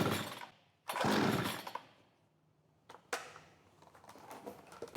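A Giantz 92cc petrol chainsaw is pull-started: a couple of loud, rough bursts of cord pulls and brief engine sputter, separated by quiet pauses, with no sustained running.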